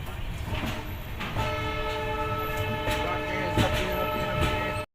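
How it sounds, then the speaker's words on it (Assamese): A diesel train pulling out of Kamakhya Junction, its engine drone and steady rumble holding throughout, with horn-like tonal lines sustained over the rolling noise and a few clanks, fairly close and continuous until it cuts off. "এতিয়াহে মানে ট্ৰেইনখন মানে এৰিলে।"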